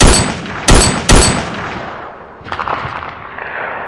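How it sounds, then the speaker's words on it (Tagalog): Three loud gunshot sound effects crack in quick succession, each with a sharp attack and a decaying tail, followed by a fainter, scattered burst of lighter reports. "nang umalingaw-ngaw ang tatlong malalakas na putok ng baril"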